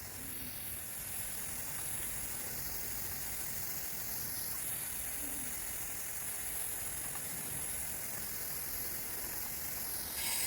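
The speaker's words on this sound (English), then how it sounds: "I have connected compressed air to the can" Compressed air pressurizing a can of transmission fluid for a Honda Jazz hybrid, a steady bright hiss that holds at a constant level throughout, close and unbroken.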